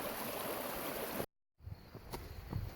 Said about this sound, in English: there's some nice running water that I can get to fill my water with